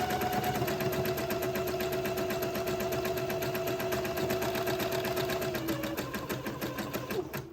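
A sewing machine stitching a handkerchief runs in a fast, even mechanical rattle with a steady whine, close and continuous, then slows and stops near the end.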